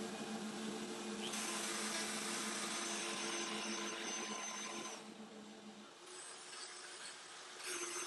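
A solid carbide 1/2-inch spiral upcut router bit cutting repeated passes in wood gives a loud, steady high whine with grinding texture, dropping briefly between passes before rising again.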